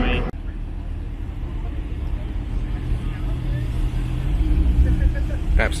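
Porsche sports cars, including a GT4 RS, arrive at a pub car park with a steady low engine rumble that swells louder toward the end, while people talk over it.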